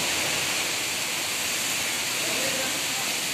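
Heavy storm with rain lashing a mango orchard where neem branches are breaking: a dense, steady roar of rain and wind, loud and close, continuous throughout with no pauses.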